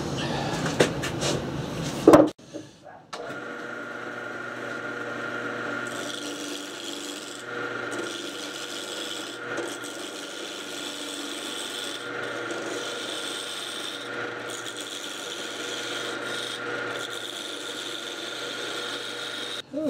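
A lathe motor hums steadily while a cutting tool scrapes and rasps against a glued-up wooden blank being rounded down for a mandrel, continuous and close after a brief stop near the start.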